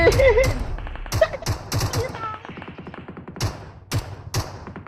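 Gunfire in PUBG Mobile: a scatter of quick shots and bursts, some close and punchy, others lighter, mixed with game noise while people talk excitedly over it.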